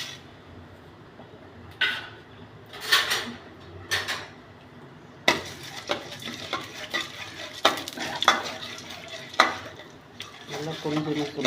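Chana dal, urad dal and mustard seeds fry in sesame oil with a crackling sizzle, broken by loud scraping and clinking bursts of a spoon stirring in the pan; nearby and close, with no talking.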